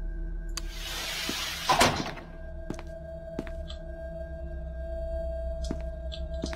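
A door opening in the horror game SCP Containment Breach gives one loud, mechanical sliding thunk with a hissing burst, then faint electronic ambience and scattered small clicks and beeps.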